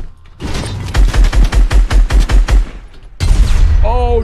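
In Fortnite, a player fires at a proximity mine: about ten evenly spaced, punchy gunshots ring out close and loud, a short pause follows, then a heavy burst and a voice.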